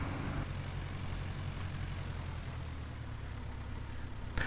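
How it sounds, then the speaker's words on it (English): The engine of a Piper J3 Cub single-engine taildragger in the A2A flight simulator hums in a steady, unbroken drone as the plane turns around on the ground. "We're just going to turn the plane around now"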